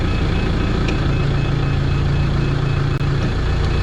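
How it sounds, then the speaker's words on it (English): A backhoe's heavy diesel engine rumbles loudly and steadily close by while it pushes against a large tree on damp ground, with faint repeating reversing beeps under the engine. "I don't know if this backhoe is going to have enough traction to"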